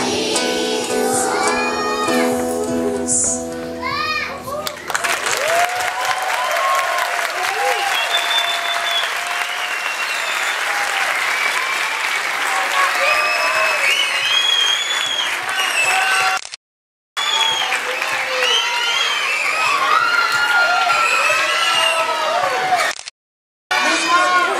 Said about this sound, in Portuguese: Peço que todos, por favor, aplaudam as crianças